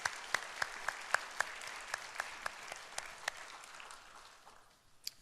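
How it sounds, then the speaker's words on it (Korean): A small church congregation at a Sunday worship service claps to welcome newcomers, with a dozen or so distinct, sparse hand claps ringing out in an uneven rhythm before tapering off, fairly quiet in a reverberant hall. "박수로 환영합니다"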